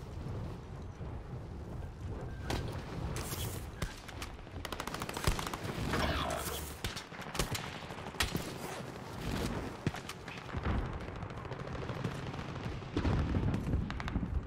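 Dense bursts of automatic and single gunfire from enemies in the online shooter Call of Duty: Warzone, steady and loud throughout with overlapping volleys and booming impacts, with no talk.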